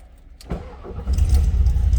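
A 1972 Volkswagen Karmann Ghia four-cylinder engine cranks over and catches, settling into a steady rumbling idle; keys rattle briefly just before it fires up.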